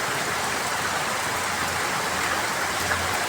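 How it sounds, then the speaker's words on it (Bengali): Heavy monsoon rain in Chattogram falls steadily and loudly as a dense, unbroken hiss with no breaks or voices, close to the listener. "এমন বৃষ্টি হচ্ছে দেখেন বন্ধুরা"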